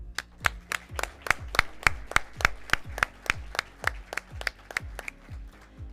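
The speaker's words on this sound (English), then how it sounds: "You all deserve a big round of applause." Slow, evenly spaced claps, about three per second, close and distinct rather than a full crowd, at a virtual FFA foundation donor recognition and awards presentation.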